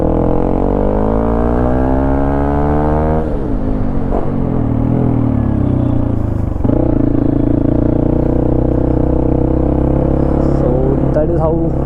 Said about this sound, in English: So that is how Luffy sounds when you open the gas